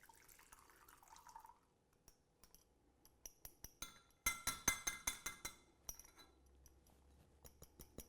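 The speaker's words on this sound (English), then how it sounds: "we are going to strain this through a fine strainer" Grapefruit cordial with turmeric straining through a fine strainer into glassware, quiet trickles and irregular soft drips and clinks, bunched into a quick run of drops near the middle.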